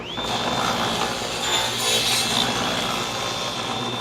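A table saw with a sled cuts a 3/8-inch-deep slot in the end of a wooden beehive feeder inner cover: a continuous, loud, close grinding whine of the blade biting through the wood.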